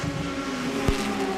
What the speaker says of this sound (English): when the car goes down, it actually fires the engine up immediately